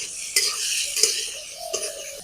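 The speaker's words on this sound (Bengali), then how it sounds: "আমি প্রথমে আলুটা একটু ভেজে নিই" Diced potatoes seasoned with turmeric and salt frying in a pan, with a steady hiss broken by a few sharp scrapes and clinks of a utensil stirring against the metal, close and fairly quiet.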